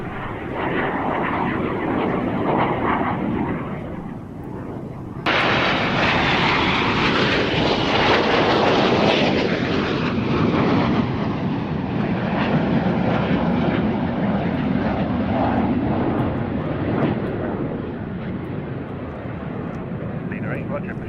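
A Buccaneer jet flying an air display gives a loud, continuous engine roar that swells and shifts in pitch as it passes, with a jump in intensity partway through. A voice speaks over it.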